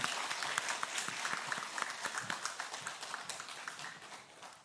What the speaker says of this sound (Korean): 다시 한번 박수로 축하해 주시기 바랍니다.